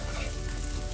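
Okra frying uncovered in a pan gives a dense, steady sizzle, close and continuous with no voices.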